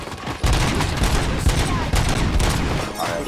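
Rapid bursts of gunfire fill a shootout in RoboCop: Rogue City on Xbox Series S, loud and sustained with overlapping volleys and a few sharper shots.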